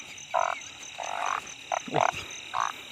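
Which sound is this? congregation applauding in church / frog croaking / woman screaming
frog croaking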